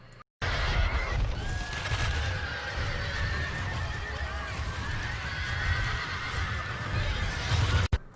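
Charging cavalry horses neigh and whinny over a rumbling rush of hooves and battle din, a loud continuous surge with sharp high cries ringing out above it, in a depiction of the Battle of Agincourt.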